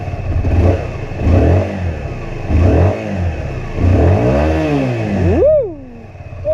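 A home-built motorbike engine almost fires into life, giving repeated rising and falling revving bursts, close and loud, with clatter, ending in a brief sputter as it dies.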